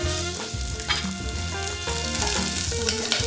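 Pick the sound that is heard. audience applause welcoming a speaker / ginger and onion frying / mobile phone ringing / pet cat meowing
ginger and onion frying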